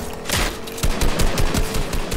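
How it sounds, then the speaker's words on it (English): Rapid video-game gunfire, a loud fusillade of sharp shots in quick bursts, close and dominant with no talk over it. "Someone's shooting at me."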